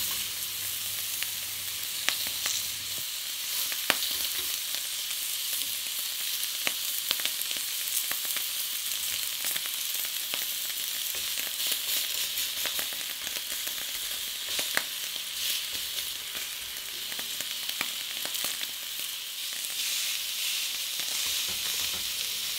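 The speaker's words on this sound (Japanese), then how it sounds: "セルを置いて焼いていきます。" A saddle of lamb seasoned with salt and pepper sizzles on a well-heated grill plate, a steady, close crackle with scattered sharp pops and spits running the whole time, no voices.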